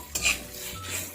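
Poha ingredients being stir-fried in a home kitchen pan, a short burst of scraping and clinking from the spatula over a soft, low sizzle, close and alone.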